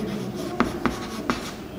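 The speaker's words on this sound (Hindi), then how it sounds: "वैसे बहुलक लिखता हूँ मुन्ना" Chalk or marker writing on a classroom board during a chemistry lecture on polymers, heard as three short taps and strokes spaced apart over a steady room hum, with no talking.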